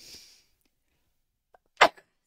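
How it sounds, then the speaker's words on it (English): A single sharp human sneeze, loud and close, following a faint breathy intake at the start, then brief silence and a small trailing sound. "I'm going to sneeze."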